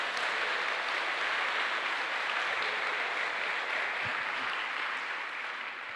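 A church congregation applauds continuously through a sermon pause, a thick, even roar of many hands that stays at the same level for the whole stretch.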